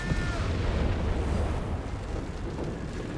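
A landmine detonates under German Grenadiers in Company of Heroes 3. A broad, rumbling blast wash sustains at moderate volume throughout the whole moment with no distinct sharp onset.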